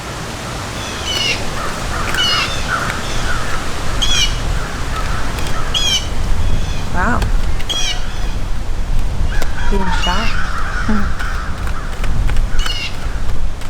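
Crows caw and squawk repeatedly, sometimes in bursts, over a steady outdoor noise bed, close and fairly loud. A person speaks briefly.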